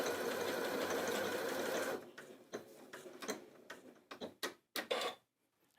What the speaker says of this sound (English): because we've got the lock stitch, it's just going to sew that sequence once before it stops